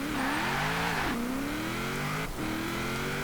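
A 2010 Nissan 370Z engine accelerating in Forza Horizon 4, revving up through the gears with two brief dips at the shifts, loud and close, steady roar with no talk.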